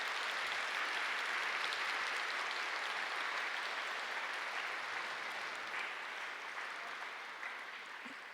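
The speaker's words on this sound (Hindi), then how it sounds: "तो सभी जोरदार तालियां बजाएंगे" Seated audience at a spiritual gathering clapping loudly and steadily in a sustained burst of applause that carries on for several seconds before easing slightly, with no talk over it.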